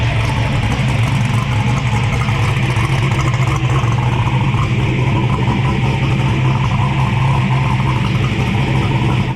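A turbocharged LS V8 swapped into a Nissan Hardbody truck idles loudly and close up, a steady deep rumble with mechanical clatter that holds constant throughout, no voices.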